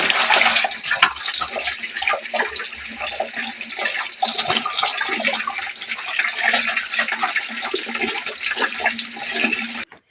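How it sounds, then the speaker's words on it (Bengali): Potatoes and fish are washed under running water for a thor jhal dish, a loud, steady gush of water from a tap with splashing and handling that stops abruptly at the end. "আলুটাও ভালো করে ধুয়ে নিচ্ছি মাছটাকে ভালো করে ধুয়ে নেব"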